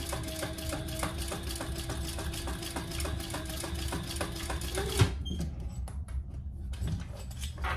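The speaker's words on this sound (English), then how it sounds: "And I'm just going to do in one more row of stitching." A sewing machine stitches a row of seams on a convertible hip bag, running in a steady, fast mechanical rhythm for about five seconds before stopping, followed by quieter handling noises.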